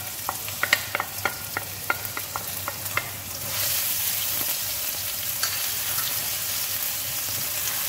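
Garlic and ginger sauté in a pan for a beef curry, starting with a series of sharp scraping stirs before settling into a loud, steady sizzle with no talking.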